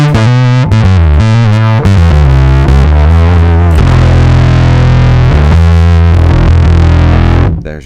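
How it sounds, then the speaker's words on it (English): Fuzz-driven bass guitar through a Bergantino Super Pre preamp with drive at 15 and fuzz fully blended: thick, saturated, harmonically rich notes played in a loose riff, loud and close, ringing out before stopping. "There's your fuzz."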